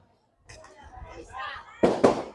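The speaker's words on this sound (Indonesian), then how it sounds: "Ini ada siapa datang barang petasan dia?" Firecrackers pop twice in quick succession at a large Islamic religious gathering for Maulid, two loud sharp bangs following murmuring voices and crowd noise.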